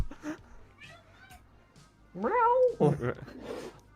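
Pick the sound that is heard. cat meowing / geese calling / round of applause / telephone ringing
cat meowing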